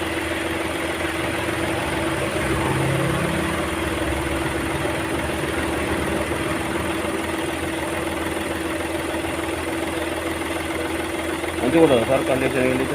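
A Hyundai Xcent 1200 cc car engine idles with a steady, even hum throughout, and someone talks over it.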